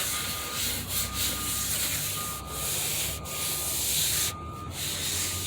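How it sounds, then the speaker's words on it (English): Hand scuffing and sanding of Jeep body paint before a repaint, steady close rubbing strokes with brief pauses, no voices. "like I said, we're going to scuff it."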